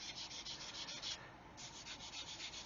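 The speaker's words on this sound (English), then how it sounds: "I'm going to use my soft sanding sponge and just gently sand" A soft sanding sponge rubbed gently back and forth over a small plastic part from a 1/144 Saturn V rocket model kit, a quiet rhythmic scratchy swish with one brief pause, close and alone.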